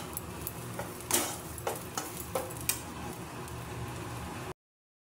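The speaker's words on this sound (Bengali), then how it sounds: "আর আমি লো ফ্লেমেই পুরো ভাজছি" Ridge gourd peel frying in a pan over a very low flame, giving a soft steady sizzle with a few brief stirring scrapes and clinks, close and fairly quiet, with no voices.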